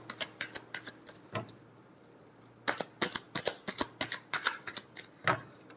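Tarot cards are shuffled by hand close up: quick bursts of sharp, papery riffling snaps, a cluster at the start, a pause, then a longer run of rapid flicks.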